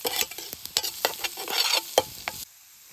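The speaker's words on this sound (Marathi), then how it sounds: "लसूण वगैरे मस्त इकडे आपण भाजून घेऊ." Garlic and onion fry in a pan while being stirred at a forest campsite, giving a close, steady sizzle with scraping strokes before it cuts off.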